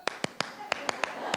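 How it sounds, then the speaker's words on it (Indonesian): Scout-style tepuk pramuka hand clapping, crisp and near, in an uneven rhythmic pattern of about seven quick claps with short gaps between them. "Ah itu tepuk pramuka."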